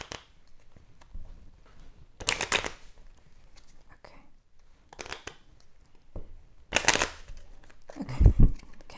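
Playing cards are riffled and shuffled into a deck during a board game, with several loud, crisp bursts separated by quieter handling noises, close to the listener.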